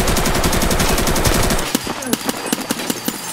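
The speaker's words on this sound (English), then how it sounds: "Not many games can reproduce the atmosphere and feeling you have when you fire a weapon in Tarkov." Rapid bursts of automatic weapon fire from the video game Escape from Tarkov, loud and close: a dense sustained volley followed by sharper individual shots spaced out in a quick rhythm.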